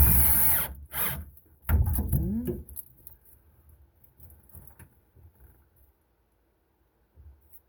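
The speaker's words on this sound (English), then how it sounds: "Hold your drill at the same angle the floor is" A power drill whirs in a few short bursts near the start while installing a B&M Star Shifter in a 1933 Plymouth coupe, then stops, leaving faint rustling and quiet handling noises.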